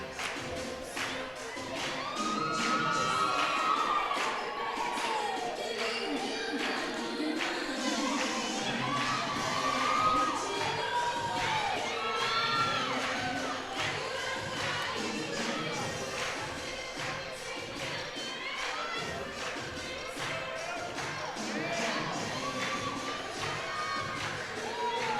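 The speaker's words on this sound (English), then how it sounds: "the crowd shows its appreciation for some members of the Cardettes that performed during that timeout" A basketball gym crowd cheers and shouts, with children's voices prominent, steady and fairly loud for the whole stretch after a dance team performance during a timeout, with a few thumps and shuffles in the background.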